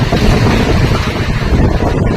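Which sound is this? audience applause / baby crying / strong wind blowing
strong wind blowing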